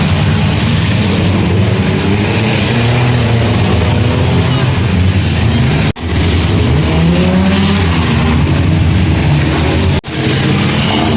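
Old wrecked cars racing on a banger race track, engines roaring loud and close in a constant growl with revving swells and two sharp thuds, while people talk nearby.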